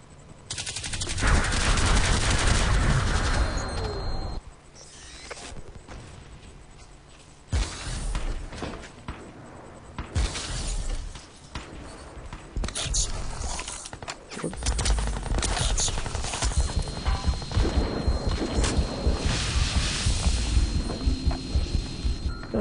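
Gunfire in the shooter Crysis 2 rattles through repeated loud bursts and single shots, with clattering impacts and rumbling effects between volleys and near-continuous automatic fire in the later stretch.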